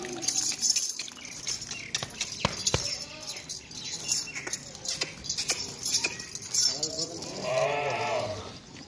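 A pure Gulabi goat on a goat farm in Dera Ghazi Khan gives a drawn-out bleat near the end, following several seconds of quiet farm shuffling, clinks and faint background noise.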